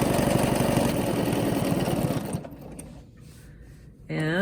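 Sewing machine stitching quilting ruler work on a block, a rapid steady mechanical hum that runs close and loud for about two seconds, then stops, followed by a quiet pause and a voice speaking.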